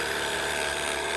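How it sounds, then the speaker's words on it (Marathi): A pressure washer machine sprays to clean dirty vehicles, a loud steady high-pitched motor whine and hiss, close and unbroken. "मशीन बघा कशा बंदूक जात."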